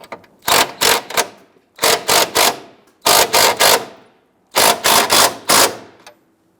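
Ratchet snugging down a front upper control arm bolt on a 2011-2021 Jeep Grand Cherokee, four bursts of rapid clicking, each a few quick strokes with short pauses between, close and loud with no talk.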